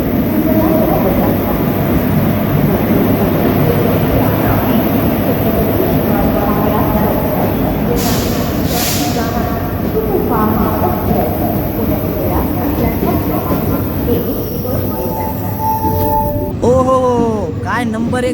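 A train pulling into Latur station: a loud, close rolling rumble of carriages that eases toward the end, with a brief hiss and squealing brake tones as it slows, while people talk over it.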